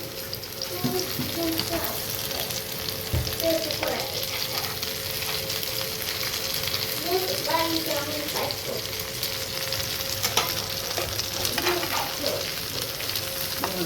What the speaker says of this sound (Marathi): एक एक अशी वडी अशी पलटी करायची आहे बघा आपल्या हाताने बघा